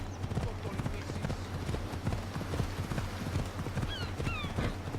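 Rhythmic clip-clop of a horse's hooves galloping in Assassin's Creed Odyssey, with a couple of short whinnies near the end, over steady game ambience and a voice talking.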